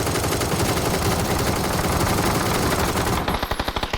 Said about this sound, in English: We can shoot this glider down.